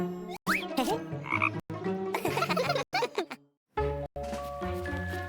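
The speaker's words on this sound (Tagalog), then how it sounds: "Isang palaka!" A cartoonish frog croaks in short bursts, mixed with playful sound effects and abrupt edits, close and fairly loud.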